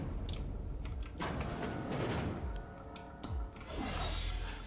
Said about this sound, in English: Unseal the door.